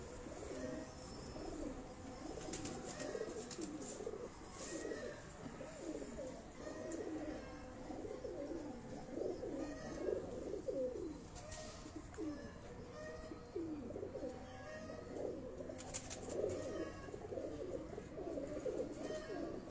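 Breeder pigeons cooing on a rooftop in Rawat, a steady chorus of soft, rolling coos from several birds close by, with faint background noise and occasional distant voices.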